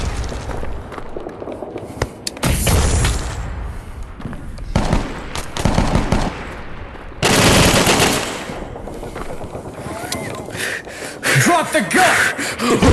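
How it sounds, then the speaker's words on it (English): Heavy machine gun fire in a close-quarters video game battle, loud sustained bursts of rapid automatic shots repeating across the span, with explosive blasts and some talk mixed in. "Firing a heavy machine gun"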